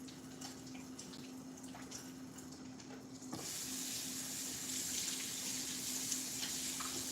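Water running steadily from a kitchen sink tap as hands are washed with soap, a soft continuous hiss that grows louder partway through as the flow strengthens.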